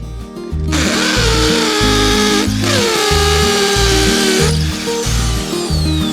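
Power drill boring anchor holes while building a hay storage and water stand for a rabbit house, loud and close, a sustained whirring spin that briefly dips and rises with the bit's load, no voices.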